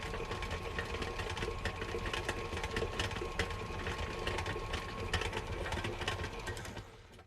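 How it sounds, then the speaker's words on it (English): A stand mixer with a paddle attachment churns cookie dough, a steady, close mechanical whir with a rhythmic clattering beat that runs unbroken before cutting off at the end. "I actually think the mixer did a pretty good job, all things considered."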